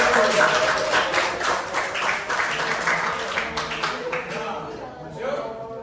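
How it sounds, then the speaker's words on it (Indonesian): Audience applause at a school dormitory gathering, a dense stretch of clapping running steadily for several seconds, with voices and chatter mixed in underneath. "Oke, tepuk tangan kita."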